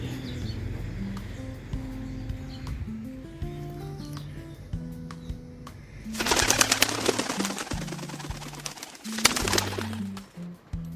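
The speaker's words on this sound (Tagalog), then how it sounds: "balak kong pagparisin yan eh. Si Bayo Pigeon at saka si ano, Luis Wiz." Young pigeons coo in a loft, with repeated low, rounded coos layered throughout and a busier, louder flurry of bird noise through the middle stretch; no talking.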